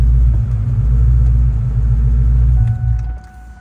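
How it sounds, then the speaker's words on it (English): A car's engine running steadily just after starting, a loud low rumble near the microphone that holds even before easing and dropping off at the end, with no talking. "The car starts right up."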